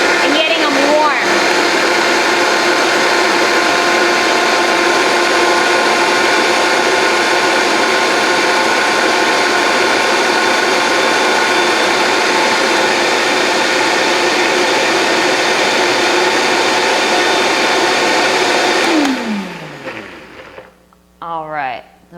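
A Vitamix 5200 blender runs on high for about nineteen seconds, a loud, close, steady motor roar with grinding texture, then winds down and stops; a voice talks over it.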